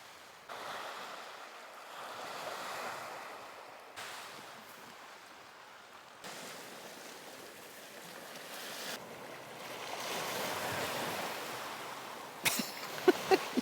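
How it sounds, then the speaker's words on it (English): Waves wash onto an Arctic beach in a low, steady surf with gusts of wind buffeting the microphone, and a few sharp knocks near the end. "So this is the first for me, walking on an Arctic beach."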